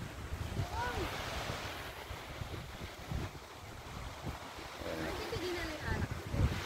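Sea waves wash onto a Zambales beach at high tide, a steady broadband surf roar with wind buffeting the microphone, while people talk over it throughout.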